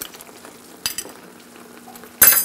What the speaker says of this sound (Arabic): حنحرك الاعشاب مع الصلصة